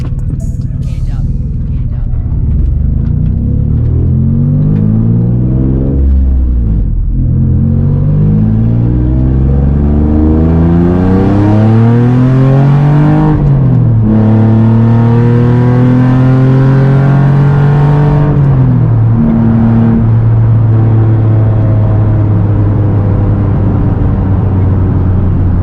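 A loud Nissan 350Z is driven hard along curvy back roads, its engine revving up and down through gear changes with rising and falling pitch, close and continuous throughout with some talk over it.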